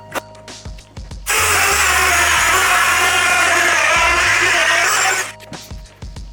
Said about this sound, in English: using a router is a total mess